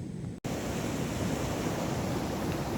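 Ocean surf at a beach in Cateel, Davao Oriental, crashes in a constant loud wash, broad rushing noise mixed with wind buffeting the microphone, after a brief cut near the start.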